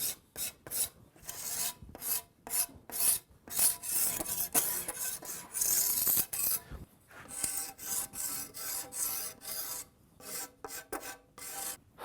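A tool scores the back of a wooden primitive bow limb in quick rasping strokes. The strokes come in rhythmic bursts with short pauses between them, close and clear with no talk.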